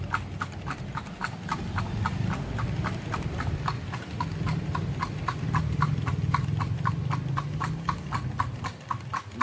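Horse hooves clip-clop in a steady, even rhythm on the street as a kalesa carriage is pulled through Vigan, loud and close with a continuous rumble of wheels beneath and no talking.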